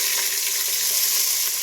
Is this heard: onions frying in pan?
yes